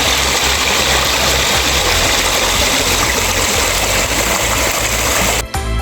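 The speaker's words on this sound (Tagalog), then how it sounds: "Ang tanging maririnig nyo lamang ay ang agos ng tubig." A river flowing with very clear water in a calm valley near Kranjska Gora: a loud, dense, continuous rushing roar of current that stays steady throughout, with a brief dip and clatter near the end.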